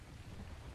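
Steady rain with a low rumble of thunder fills the scene in ARK: Survival Evolved, a dense, even wash of noise at a fairly quiet level, with no voices.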